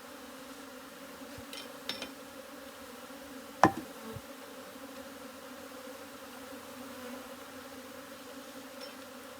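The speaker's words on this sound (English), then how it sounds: "we've got a lot of unhappy bees at the moment" Disturbed honey bees buzzing around a hive just fitted with a honey super and roof, a faint continuous low drone with a few sharp knocks and taps over it, no talking.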